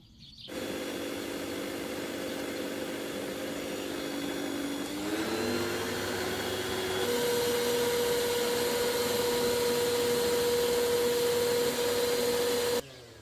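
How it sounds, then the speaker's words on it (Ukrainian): An electric mixer beats cake batter while sunflower oil is gradually added. Its steady whine shifts in pitch partway through as it runs continuously at close range, then stops abruptly. "Тепер поступово додаю соняшникову олію і продовжую збивати міксером"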